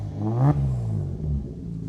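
A Mazda MX car engine revs up sharply to a peak and then settles back into a low, rumbling idle, close by and loud.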